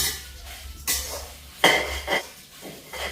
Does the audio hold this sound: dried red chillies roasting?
yes